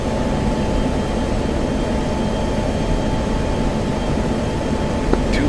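An F-16 jet engine in the DCS World flight simulator, a steady low roar and hum held at an even level throughout, with no voices over it.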